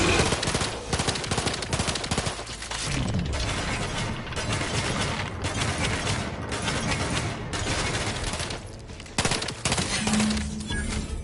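A gun fires in The Outer Worlds 2 in long, dense bursts of rapid shots with mechanical clatter, loud and close. The bursts run nearly nonstop with only brief pauses between them.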